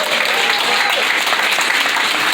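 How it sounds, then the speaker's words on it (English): Steady, dense applause from an audience honoring a top student, filling the whole stretch at even strength with no voices on top. "Give her a round of applause"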